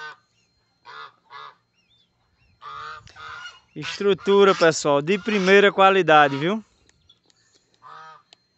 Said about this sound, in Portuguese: São os gansos.